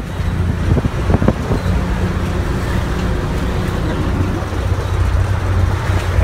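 Interior of a public bus in Thailand travelling with its door open: a steady, loud roar of engine and road noise with wind rush, a low droning hum throughout, and a few brief knocks near the start.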